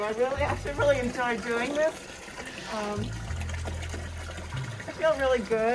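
Water runs and trickles as it fills buckets for horses in a barn, a steady stream that sits beneath continuous close conversation.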